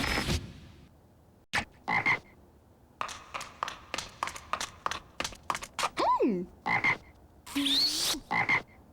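Frog croaks in a TV commercial, a run of short, sharp croaking bursts repeated in quick, uneven rhythm, loud and close, with brief pauses and a rising squeak among them; no one talks over it.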